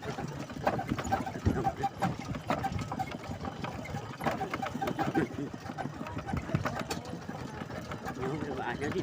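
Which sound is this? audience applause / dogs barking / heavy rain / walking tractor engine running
walking tractor engine running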